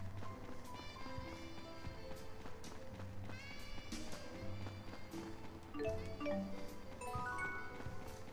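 Horses galloping in the video game Tales of Xillia 2, faint hoofbeat clatter mixed under game music and battle effects, rhythmic and continuous throughout.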